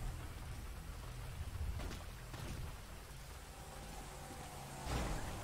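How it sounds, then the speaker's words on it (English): Rain falls steadily in a Grand Theft Auto roleplay game, a soft continuous hiss with a few low rumbling swells, faint and without speech. "let's get you out of this rain"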